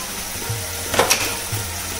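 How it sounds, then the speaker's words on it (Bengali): Spice paste with chopped tomato, sugar, coriander and cumin powder frying in a pan for a Bengali tangra fish curry, a steady close sizzle with a couple of brief stirring scrapes, no talking. "দিয়ে ভালো করে মশলাটা এবার কষিয়ে নেব"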